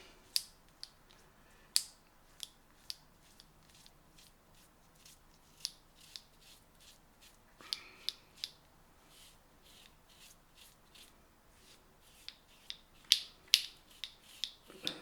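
Quiet, close scraping strokes of a razor shaving a head against the grain, short rasping bursts across skin and stubble repeating irregularly over a soft background.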